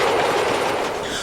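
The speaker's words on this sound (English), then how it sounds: "Leaving Tua, number 286, built in 1910 by Henschel, proceeds east with a typical mixed train" Henschel steam locomotive number 286, built in 1910, hauls a mixed train with passenger coaches away from Tua station in Portugal, rumbling loudly and steadily on the rails, close by with no voices.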